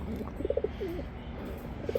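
Rakovnik Roller pigeons give soft, low cooing notes in a few short phrases, clear but moderate in level over a quiet steady background.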